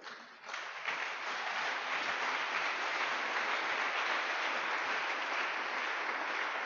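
A church congregation applauding to acclaim the Lord, a broad steady wash of clapping from many hands that swells in within the first second and holds evenly to the end, heard from a distance.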